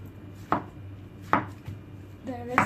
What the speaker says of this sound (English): Just chop the top off.